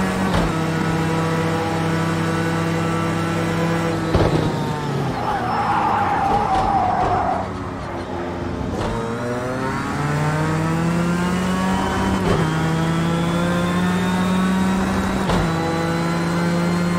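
Race cars in Project Cars 2 run as a pack, their engines droning in steady high tones that dip on braking and climb again through the gears, with tyre squeal on a curve and a close, continuous roar.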